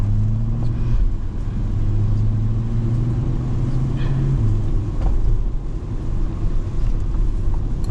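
A C8 Corvette driving in the rain gives a steady low engine rumble heard from inside the cabin, swelling slightly and easing at moments, with a faint background hiss.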